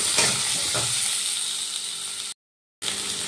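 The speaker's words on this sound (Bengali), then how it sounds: "এবার ওই তেলের মধ্যেই আমি দিয়ে দিচ্ছি ডুমো ডুমো করে কেটে রাখা আলু।" Diced potatoes sizzle and fry in hot oil in a wok, a steady loud crackling hiss with a few stirring scrapes near the start, cut by a brief silent gap.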